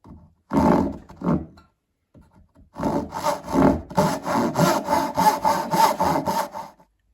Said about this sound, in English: carefully using my saw to the line